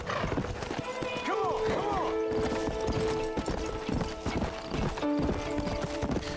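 A ridden horse's hooves clip-clop in a steady rhythm in Red Dead Redemption, with a brief whinny, while a rider urges the horse on with talk over game music.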